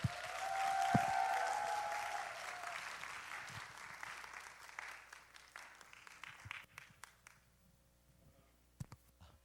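A church congregation claps in a burst of applause that starts loud and dense, then thins out into scattered claps before a few last isolated ones, heard from within the room.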